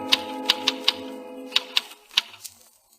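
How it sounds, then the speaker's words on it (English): Typewriter keys struck in a radio drama scene, about a dozen crisp, close clacks in an irregular rhythm that thin out toward the end, heard alone without voices. "he stares at the wall, then hunches over the typewriter again."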